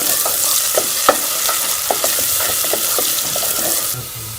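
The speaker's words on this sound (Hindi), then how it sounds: "साथ इसमें प्याज भी शामिल कर लेंगे। हल्का सा ब्राउन कर लेंगे।" Onion frying and browning in a pan, a loud, close, continuous sizzle with a spoon stirring and scraping in irregular taps throughout, no voices.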